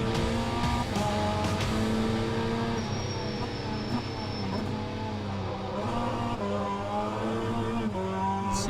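An onboard race car laps the Laguna Seca track in an amateur touring-car series, its engine droning steadily with shifting pitch as it revs and shifts, close and continuous, while a commentator talks over it.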